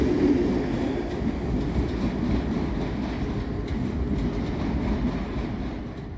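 A ScotRail train at Edinburgh Waverley station, heard as a continuous low rumble of rolling coaches with faint clickety-clack from the wheels, steady and fairly close throughout, with no voices.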